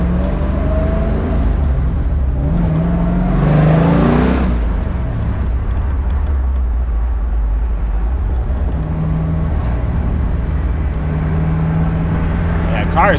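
A 1970s Plymouth Cuda with a 426 Hemi engine rumbles low and steady while driving, swelling briefly as it revs, with someone talking over the engine throughout.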